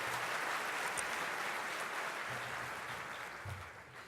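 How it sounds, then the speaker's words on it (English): Audience applause at the 2018 Houston State of the City event as elected officials are recognized. It is a steady, moderately faint wash of clapping that lasts the whole stretch and tapers slightly near the end. "Let's give them a big round of applause."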